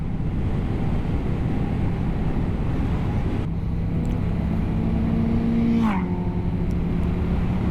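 A car speeds past on a road through a curve, its engine note steady and loud, then dropping in pitch as it sweeps by, with no talking.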